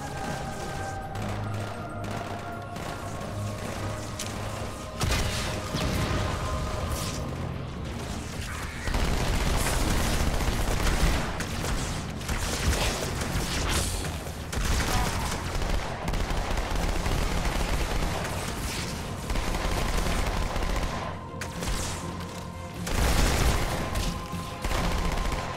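Steady combat gunfire in Halo 2, bursts of automatic fire and shots crackling throughout with intermittent louder booms, plus in-game music tones at the start, no talking.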